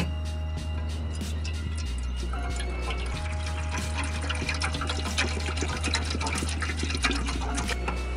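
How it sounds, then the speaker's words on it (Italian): A pot of water comes to a boil on a gas stove, giving a steady, close bubbling and churning with a constant low hum and scattered ticks and pops throughout, with no voices. "L'acqua bolle."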